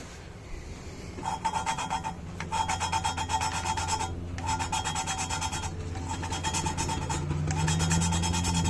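Repeated rough scraping strokes of a Yamaha XJ650 engine valve being lapped by hand, in a steady back-and-forth rhythm, close and fairly loud, pausing briefly between bursts of grinding.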